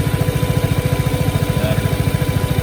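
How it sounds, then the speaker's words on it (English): A Vespa GTS 300 scooter's cooling fan runs loudly and steadily up close, with a rapid, even pulsing throb underneath from the idling engine. "Fan's pretty loud."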